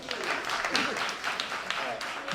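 A short burst of applause, a crowd clapping in a dense patter with a few voices mixed in.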